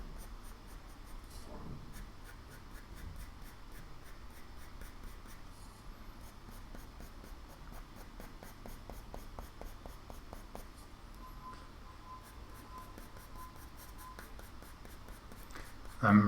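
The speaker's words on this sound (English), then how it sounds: "I'm just gonna draw this flower in." Graphite pencil sketching a flower on paper, a steady close scratchy stream of quick strokes that runs almost the whole time, with soft talking now and then.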